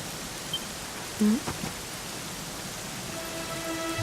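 Steady rain falls in the Dragon Quest XI video game as a soft, even hiss running through the whole clip, with a few faint brief game sounds over it and no speech.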